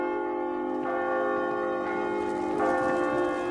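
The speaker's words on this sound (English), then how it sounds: "Another moment, it was ringing like a thing possessed." The church bell of old Nassau Hall rings continuously, its tones stacked and sustained as strikes swell in loudness around one second and again near two and a half seconds, a dense, resonant clangor with no voices.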